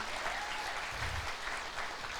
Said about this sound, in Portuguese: aplauso ao Senhor